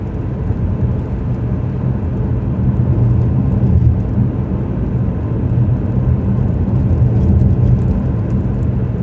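Steady, loud engine drone from inside a Ford Focus in a lower gear descending a five to six percent grade toward Loveland Pass, Colorado, with continuous road and wind rumble throughout and no talk.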